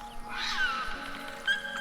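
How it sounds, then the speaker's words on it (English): A cat meows in the video game Neyyah. One drawn-out, wavering cry is heard up close over a steady ambient game hum, and a shorter chirp follows near the end. "Here, kitty kitty."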